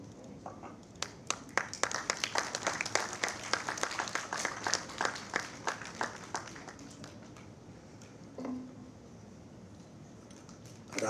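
Audience applause at the launch of the Haryana State Environment Plan, a fairly faint but steady patter of many hands clapping that builds quickly, holds, then thins out and fades toward the end.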